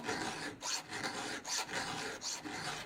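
Round file rasping across a chainsaw chain's cutters, a close, steady series of about six gritty strokes in an even back-and-forth rhythm, each a short scraping rasp with brief pauses between.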